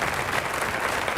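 A brief, steady wash of audience applause greets a singer and her musicians, even and unbroken throughout.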